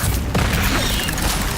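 An Incendio fire spell cast in Hogwarts Legacy gives off a loud, dense, roaring blast of fiery noise that holds steady through the whole moment, with no voices.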